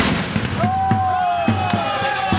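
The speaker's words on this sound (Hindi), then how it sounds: "गाजे बाजे के शोर के बीच फूटते ये पटाखे" Firecrackers burst in quick sharp cracks at a village celebration, several pops in a rapid irregular string over a din of drums and festive music, with a whistling tone rising briefly through the mix.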